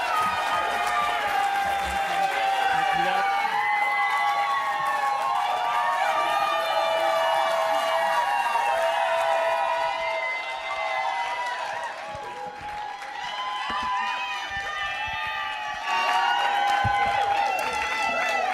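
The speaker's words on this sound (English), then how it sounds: "Let's give everybody a round of applause" Audience applause at a graduation ceremony during a women's leadership celebration at a conference, a dense, sustained wash of clapping and cheering that fills the room, with voices mixed into the crowd noise.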